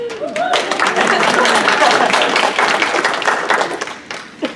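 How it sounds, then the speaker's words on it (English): People at a college radiologic technology week celebration breakfast clap at close range, a loud burst of claps and taps with thumps, under the noise of a voice in the room. "Clap, clap."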